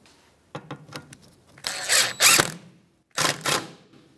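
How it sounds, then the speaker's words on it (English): A 10 mm socket wrench snugs bracket bolts on a 2013–2018 Toyota RAV4 during parking brake cable work: a few short clicks, then two louder bursts of rapid ratcheting, a pause, and two more quick ratchet runs, close up. "Get a 10 millimeter socket and we're going to snug them up."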